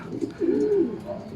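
A racing pigeon gives a low, rolling coo, close and clear, with faint rustling around it and no talking.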